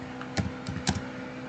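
Typing a prompt on a computer keyboard, a few close, crisp key clicks in an irregular rhythm, heard alone.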